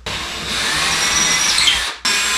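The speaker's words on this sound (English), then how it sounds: "that is where I want to drill my holes" A power drill bores holes into a bathroom wall for wall anchors, a loud close whining grind that runs steadily, cuts off briefly near the end, then starts again.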